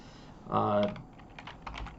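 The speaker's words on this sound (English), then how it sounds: "you're going to type in disk part, all one word" Keys clatter on a computer keyboard while someone enters a command to format a hard drive or SSD, a burst of close, fast keystrokes followed by a few scattered softer taps.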